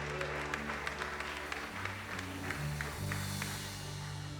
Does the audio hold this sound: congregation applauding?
yes